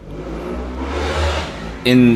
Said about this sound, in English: You can hear some motorcycles revving.